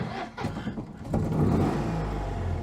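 A modified 720cc Citroën 2CV engine revs up close and loud, rising from a buzzy idle into a sustained, throaty drone.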